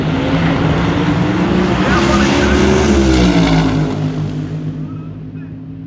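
A drag race car makes a run at Gainesville Raceway during Sick Week, a loud, close engine roar whose pitch climbs and then fades as the car pulls away down the track.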